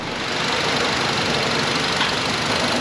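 A Ford Transit Connect engine idles as it warms up after coolant housing repair, a steady close rumble with an even mechanical drone and no talk.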